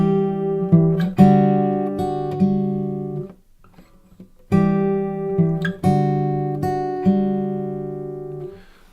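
Acoustic-style guitar plays the second measure of a song, a picked, ringing arpeggio pattern played twice with a short pause between, alone and close.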